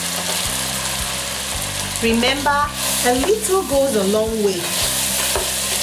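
Njakatu garden eggs frying in oil with onions, ginger and garlic for a Cameroonian stew, a continuous close sizzle under a steady low hum while a voice talks over it.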